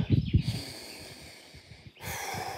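A person breathing deeply while walking outdoors in nature, with a couple of loud close snorting exhalations at first, then quieter breaths and a soft rushing sigh near the end.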